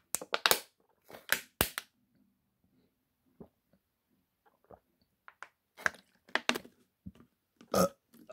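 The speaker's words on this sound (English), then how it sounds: "sorry about the burp." Several loud, close burps after drinking water come in bursts, separated by short quiet gaps.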